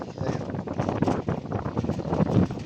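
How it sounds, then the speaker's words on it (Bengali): Strong wind on an open roadside buffets the microphone with a constant loud rushing roar that swells and dips throughout. "দেখছেন কি পরিমাণে বাতাস"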